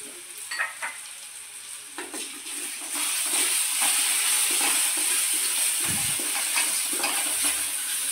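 Turmeric being stirred into a fried paste in a hot pan, with steady loud sizzling and scraping strokes that grow stronger partway through; no talk.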